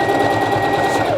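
A sewing machine runs steadily and loudly at close range while stitching a fleece dog coat, its motor hum and rapid needle rhythm continuous throughout with no talking.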